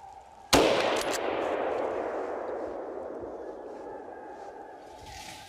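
A single loud rifle shot fired at a wild boar during a driven hunt in woodland, a sharp crack followed by a long rolling echo that slowly fades.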